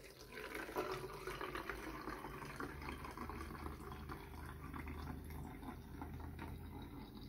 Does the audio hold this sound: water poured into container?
yes